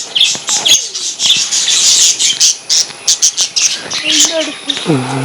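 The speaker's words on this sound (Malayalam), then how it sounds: "ഇതാ പിന്നെ നമ്മളെ ഫിഞ്ചസും ലവ് ബേർഡ്സും എല്ലാവരും" Busy chorus of lovebirds and finches chirping and squawking close by in an aviary, rapid overlapping calls throughout, with a brief low voice at the very end.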